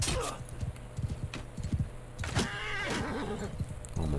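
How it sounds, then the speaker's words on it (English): A horse whinnies and hooves clip-clop in a battle in the video game Mount & Blade II Bannerlord, the horse sounds mixed with dense game noise and brief thuds, with no talk over them. "Oh, my poor horse."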